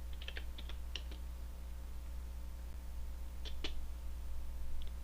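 Keys clatter on a computer keyboard as a number is typed, two short bursts of clicks at start and end with a quiet pause between, close and faint over a steady electrical hum.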